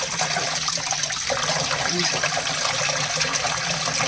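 Goat tripe being washed by hand in water, with steady splashing, sloshing and trickling close by throughout, continuous and fairly loud.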